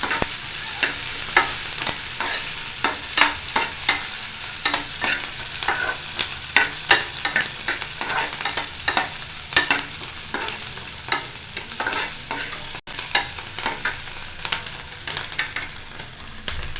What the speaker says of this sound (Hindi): मिर्ची मैंने पहले डाली है, थोड़ी सी हल्की सी मुझे फ्राई करनी है